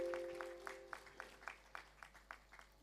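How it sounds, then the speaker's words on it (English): Faint, sparse clapping in a rhythmic, almost unison beat from the audience at a distinguished alumnus award ceremony at IIT (ISM) Dhanbad, distant and soft over a low steady hum. "Let's have a big round of applause, everyone present as alumni here."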